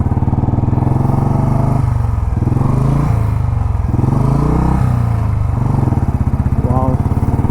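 A diesel-engined Bullet motorcycle idles with a loud, rapid thumping beat that stays close and continuous, while people talk over the engine.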